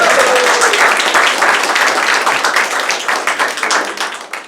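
An audience at a Malayalam standup comedy show breaks into dense, loud applause that gradually thins and fades over a few seconds.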